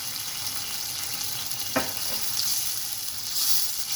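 Masala-coated pomfret fish frying in a pan, a steady close sizzle with a faint stir or tap partway through, no talking.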